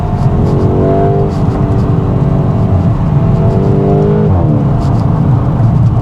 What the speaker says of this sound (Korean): 이 업시프트 뱅 소리가 세, 좋다